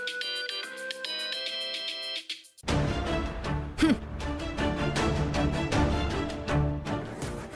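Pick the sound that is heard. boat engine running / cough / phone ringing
phone ringing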